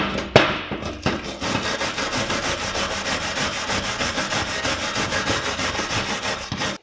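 A wire brush scrubs the brake caliper cradle on a BMW Mini in quick, steady back-and-forth strokes, close and rasping, with a couple of sharp knocks near the start.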